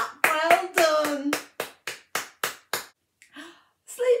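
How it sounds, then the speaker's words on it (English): Group clapping at a children's storytime, a burst of quick claps followed by about eight separate, evenly spaced claps, then a couple of softer ones at the end, with talk mixed in over the first few. "Give yourselves a clap."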